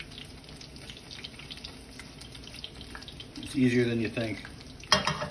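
Breaded oysters fry in hot oil with a steady, close crackle that runs throughout, and a voice speaks briefly over the sizzle near the end.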